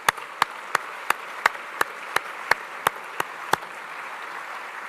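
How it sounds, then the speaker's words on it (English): Sharp, evenly spaced claps at a naval luncheon, about a dozen crisp hand strikes in a steady rhythm over a quiet room, sounding like a single nearby person clapping rather than a full crowd. "Let's give them a round of applause."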